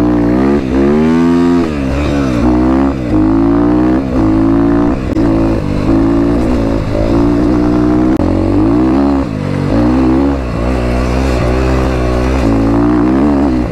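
A motorcycle rides along a road with a loud, continuous engine drone and wind rush close to the microphone, the pitch shifting gently as it moves, with no talking.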